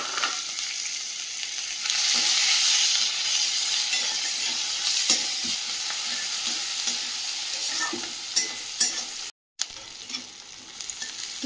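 Chopped onion fries in hot oil with cardamom, cloves, a piece of cinnamon and bay leaves. A loud, continuous sizzle swells early, with light stirring scrapes throughout and a brief silent gap near the end.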